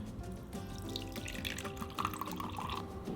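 Water from a tap runs steadily into a container being tested for leaks, a soft continuous trickle and splash with no voices over it.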